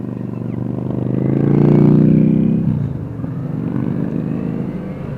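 Small sport motorcycle engine revving high, the pitch rising and swelling to a loud peak before easing back to a steady, buzzy idle-like drone, close and alone.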